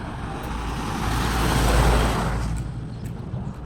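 A motorcycle pulls away for a test drive in rural Bukidnon, its engine noise swelling to a peak midway and then fading as it moves off, with no talk.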